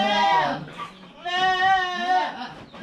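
Goats on a native-goat farm let out loud, close bleats, a long wavering cry followed by another drawn-out call after a short pause.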